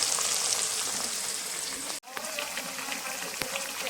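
Peas tipped into hot oil in a pan give a loud, steady crackling sizzle that runs throughout, with a brief dropout midway before the frying noise resumes at full strength.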